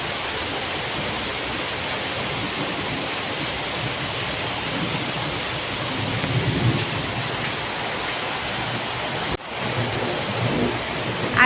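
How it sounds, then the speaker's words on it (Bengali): Heavy rain pours steadily and loudly outdoors, with thunder rumbling beneath the downpour and a brief break near the end. "কিরকম মেঘ ডাকছে তোমরা বুঝতে পারছো প্রচুর মেঘ ডাকছে বৃষ্টি হচ্ছে"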